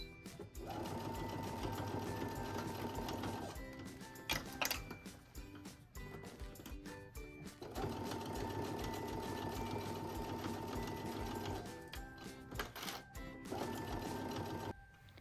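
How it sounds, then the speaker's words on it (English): A sewing machine stitches a beach bag's lining and outer fabric together, running in long steady whirring bursts with brief pauses and handling clicks between them. "It's time to sew the lining and the outside together and then add the straps"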